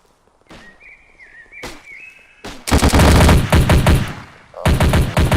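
Gunfire in a VR battle royale game: a few sharp single shots, then dense loud bursts of rapid rifle fire with a short pause before another burst.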